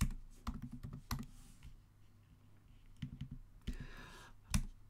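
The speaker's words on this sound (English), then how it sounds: "I'm going to type it on myself" Typing on a computer keyboard in bursts of quick clicks and clacks separated by quieter pauses, fairly close and with nobody speaking.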